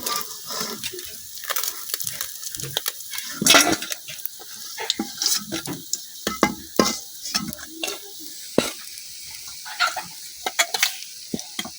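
Khaila fish frying in a pan for a village-style eggplant curry, sizzling steadily while a spatula scrapes and clatters against the metal pan in repeated sharp strokes as the pieces are turned over.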